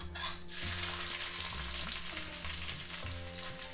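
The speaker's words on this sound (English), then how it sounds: "It only takes a few seconds to fry in between, and then you start adding stuff. Saute the ginger a little bit." Ginger frying in hot oil with cumin seeds and curry leaves, a steady close sizzle with occasional spatula scrapes against the pan and no voices.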